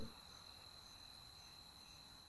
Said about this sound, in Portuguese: Olha o barulhinho dos grilos, ó.